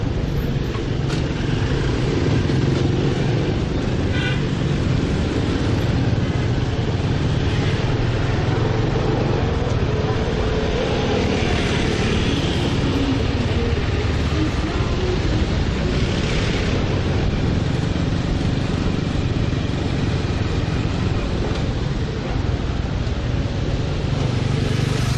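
Motorbike ridden through Hanoi streets with a rough engine sounding like a dirt bike, a steady loud drone mixed with heavy wind buffeting on the microphone and ongoing traffic noise throughout.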